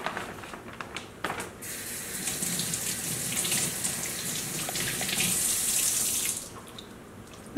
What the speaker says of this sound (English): I might have to add a little water actually.